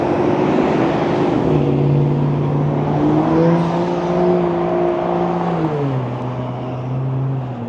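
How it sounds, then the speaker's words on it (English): Loud cars driving through a Las Vegas suburb near an intersection, engines droning and shifting pitch as they accelerate and pass close by in a continuous roar. "you can't get away from all the loud cars, even in suburbia here in Vegas."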